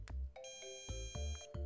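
A shock collar in its beeping mode gives a short series of quiet electronic beeps, about five tones in under two seconds, with no talking.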